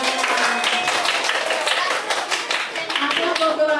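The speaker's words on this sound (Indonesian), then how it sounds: "kasih tepuk tangan dulu" Classroom full of students applauding together, a dense steady patter of many hands clapping at once, loud and close, with voices mixed in under the clapping.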